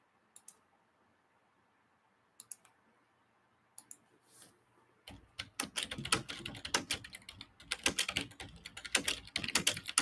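Rapid computer keyboard typing clatters in close, starting with a few isolated clicks and then picking up into fast, continuous keystrokes.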